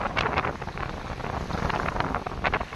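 Strong wind roars across the sea around a small fishing boat, a steady, loud, rushing blast with gusty surges that never lets up.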